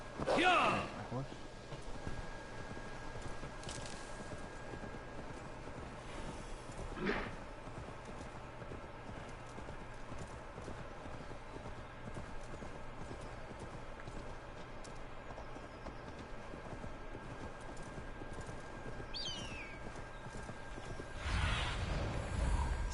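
Faint clip-clopping horse hooves from the video game Assassin's Creed Valhalla run under a steady background hum, with louder bursts of voices near the start and end.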